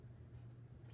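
A Sharpie marker scratches across paper in short quick strokes, a close, soft, dry squeak-and-rub of felt tip lettering, heard alone at low volume.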